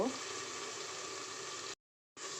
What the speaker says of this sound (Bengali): প্রথমে পেঁয়াজ দিয়ে তেলে হালকা ভেজে নেব